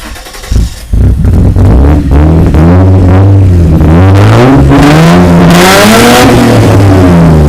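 A car engine starting up and revving hard right up close, a burst of cranking followed by loud rising and falling revs that dominate the whole stretch.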